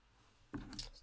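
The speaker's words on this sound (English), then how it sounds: "Just going to cut that a bit shorter" Scissors make a brief, close snip through card being trimmed shorter for card making, a single quick cut after a near-silent pause.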